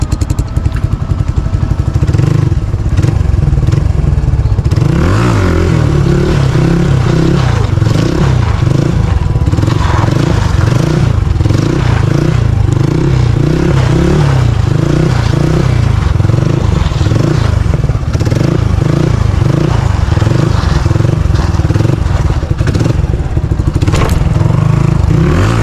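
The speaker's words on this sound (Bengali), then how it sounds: "একটা হুইলি মারে চেক করা যাক" A motorcycle engine revs hard and repeatedly during a wheelie attempt on a winter morning road in Kushtia. The roar is loud, close and continuous, swelling and dropping in rhythmic surges throughout, with no one talking.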